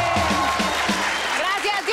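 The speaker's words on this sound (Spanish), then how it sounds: "¡Un aplauso!" Loud, steady clapping from a crowd fills the whole stretch, with a voice speaking over it.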